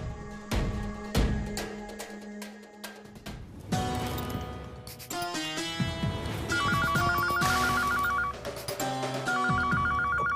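A telephone rings repeatedly in a bright electronic pattern, loud and close, at a hotel front desk over busy background sounds with no talking.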